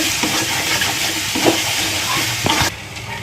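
Onion masala with salt, cumin powder and coriander powder sautéing in a pan: a continuous hiss and sizzle with occasional spatula scrapes, which cuts off abruptly near the end.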